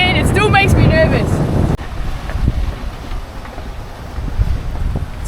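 A sailboat crossing the Gulf of Sigacik in strong wind of almost 20 knots, with gusty wind buffeting the microphone and water rushing past the hull; a voice talks briefly at the start.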